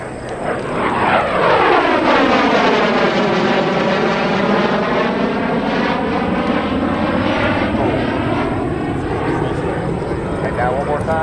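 A P-51 Mustang and an F-16 Fighting Falcon make a loud heritage-flight flyby at an air show. The engine roar swells and then falls in pitch as the planes pass, with a public-address voice beneath it.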